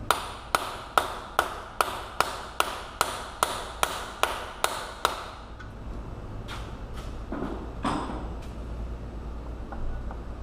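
A hammer strikes the front axle of a Hummer H3 in an even series of about a dozen sharp metallic taps, each ringing briefly, followed by quieter scraping and a couple of softer knocks.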